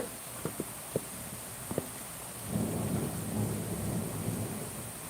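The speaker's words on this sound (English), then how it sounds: "let you guys watch the thunderstorm because it usually doesn't last very long" Steady rain hisses while a low roll of thunder swells midway, with a few sharp drips or taps early on; no one speaks.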